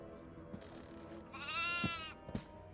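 A goat bleats in the horror video game Devour, a single wavering cry near the middle that stands out from quiet ambience, with soft thumps around it.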